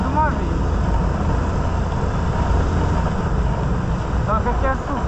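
A steady motorcycle engine drone runs throughout, loud and continuous, with a voice speaking over it near the end.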